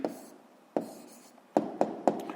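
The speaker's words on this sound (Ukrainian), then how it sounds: "Записуємо відповідь." Pen writing out a math answer on paper, with a series of sharp scratches and taps, two spaced strokes followed by a quicker cluster of short marks, close and fairly quiet.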